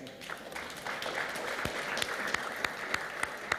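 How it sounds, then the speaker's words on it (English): An audience at a high-level regional women's forum applauds steadily, a dense wash of clapping with a few sharper claps standing out near the end. "we need to applaud ourselves"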